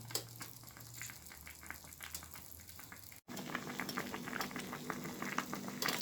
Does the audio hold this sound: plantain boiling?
yes